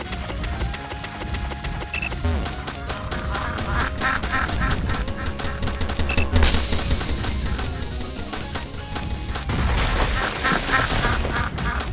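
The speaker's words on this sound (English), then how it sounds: "You will find that strange ducks reside here, but they should not bother you more than that." Ducks in the space world of the video game Crazy Party: synthetic quacks and honks amid rapid repeated wooden cracking clicks and electronic tones, busy and steady throughout.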